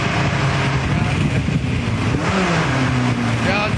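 A Formula 1 car at Donington Park, heard from onboard, drones loudly and continuously, with pitch shifts as it moves through gears.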